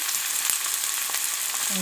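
Steady, hissing sizzle of chopped onion frying in hot oil, continuous and close, with faint crackles and a clink near the end.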